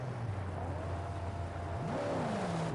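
Cars in the Mad Max video game drone with a steady engine hum, then one revs up, its pitch rising and falling in a whining sweep, loud and continuous with no voices.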